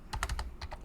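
Close, crisp computer keyboard typing while writing .NET Core code, a quick burst of about five keystrokes, a short pause, then two more clicks, with no voices.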